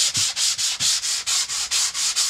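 Steady scratchy strokes of emery paper on a wooden breadboard coated with sanding sealant, roughly ten even back-and-forth rubs in a quick rhythm, close and continuous.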